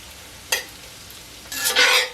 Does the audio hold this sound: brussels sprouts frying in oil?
yes